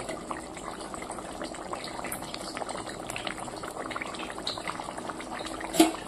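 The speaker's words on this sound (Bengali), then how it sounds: "এবার একটু টকবগিয়ে জাল দিয়ে নামিয়ে নেব।" A pot of shingi (catfish) fish curry boils at a steady rolling simmer, close and continuous bubbling and popping for several seconds, with one brief louder clink near the end.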